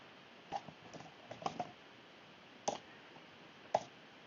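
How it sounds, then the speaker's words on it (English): Keys clatter on a computer keyboard in short bursts, a few quick clusters of clicks spaced apart with quiet pauses between, fairly close and with no voice over them. "And we're going to type in blue."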